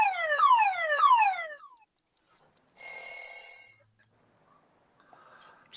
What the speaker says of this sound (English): It's a car alarm.